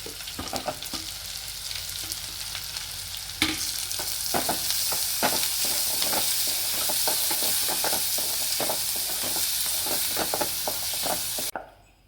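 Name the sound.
onions and green chilies frying in a pan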